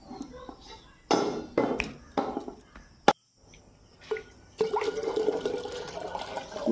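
Water splashes over a chaura shrine in several short bursts with brief pauses between them, then pours in a longer running wash; faint insect chirps sound in the background.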